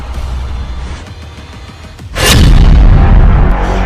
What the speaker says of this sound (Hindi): इसके गली के एक मुहाने पर खड़े इजरायल के मरकाबा टैंक को यासीन रॉकेट से टारगेट किया जाता है